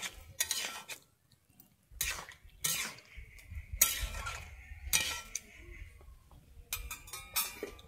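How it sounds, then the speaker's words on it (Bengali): Pumpkin greens being stirred with sugar in a pan, a spoon scraping and clinking against the metal in irregular bursts with brief pauses, close and moderately loud. "চিনিটা দিয়ে আমি আবার একটু ভালোভাবে মিশিয়ে নিচ্ছি।"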